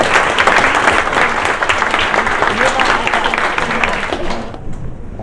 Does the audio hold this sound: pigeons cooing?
no